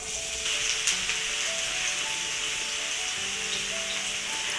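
Chopped onion frying in about six tablespoons of oil, a steady bright sizzle and crackle held close and continuous, with faint clinks of a utensil and no talking.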